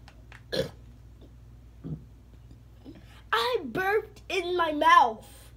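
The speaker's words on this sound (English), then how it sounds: "My mouth was closed, but I burped again." A child's burp at a breakfast table, a short gulping sound among faint clicks, followed by a voice talking.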